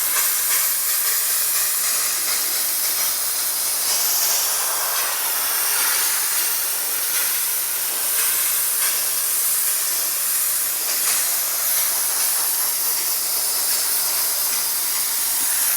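A steam cleaner hisses steadily and loudly against a car seat's Alcantara fabric while detergent is steamed out, one unbroken close-up spray with no talking.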